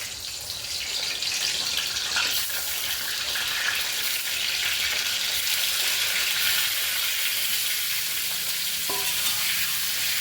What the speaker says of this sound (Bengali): তেলটা গরম হয়ে গেছে, এবার আমি দিচ্ছি পটলগুলো